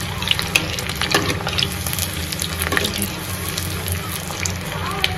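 Chicken 65 pieces fry in a pan over a high gas flame, a steady hissing sizzle with small crackles and pops, while someone talks over it.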